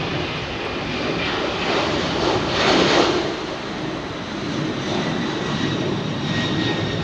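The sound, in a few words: Boeing 767 jet taking off from Heathrow runway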